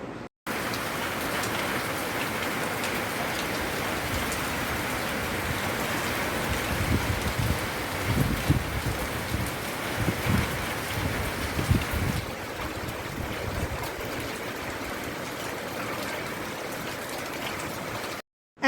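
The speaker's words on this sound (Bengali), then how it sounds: "বৃষ্টি হয়েই যাচ্ছে" Heavy rain pours down at night with a dense, continuous roar. The drumming on surfaces grows slightly rougher partway through, then settles back to a steady downpour.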